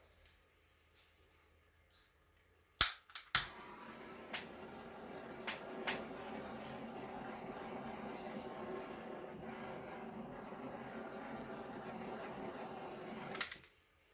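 A handheld torch flame blows steadily over casting resin to pop surface bubbles, a faint hissing roar lasting about ten seconds, with a few clicks and knocks as it is picked up and lit.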